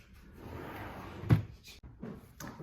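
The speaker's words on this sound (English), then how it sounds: "So I closed the pen drawer." A desk pen drawer slides shut with a single soft thump midway, set against quiet room noise and light rustling before and after.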